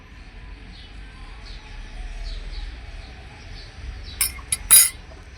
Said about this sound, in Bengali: এদিকে আমি কাঁটা চামচ দিয়ে ডিজাইন করে নিচ্ছি